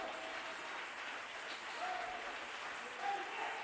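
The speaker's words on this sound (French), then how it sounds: "Donnez une main d'acclamation." Congregation at a church service clapping in a steady, fairly quiet and distant wash of applause, with faint voices beneath.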